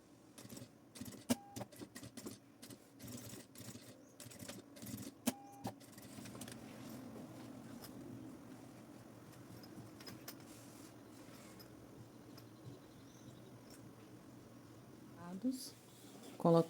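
A sewing machine stitches along the edge of a backpack panel, a quiet, steady mechanical whir after a few sharp clicks and taps at the start.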